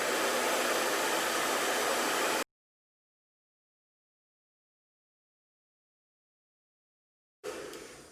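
A hair dryer fitted with a diffuser runs on medium heat at low speed, giving a steady, loud whoosh that cuts off abruptly, leaves several seconds of silence, then starts up again at the end.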